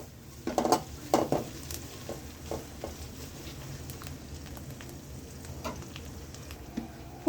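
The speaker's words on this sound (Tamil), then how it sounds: "வல்லாரை நல்லா வதக்கிக்கலாம்." Indian pennywort (vallarai) leaves being sautéed in a pan, with a steady soft sizzle under a few sharp clinks and scrapes of stirring, loudest early on and quieter later, with no talking.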